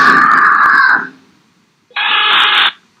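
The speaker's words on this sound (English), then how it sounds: "a loud scream pierces the air, sending the little girl running for mommy" A loud scream captured on a Ring nanny cam, two piercing cries with a short silent gap between them, close and harsh.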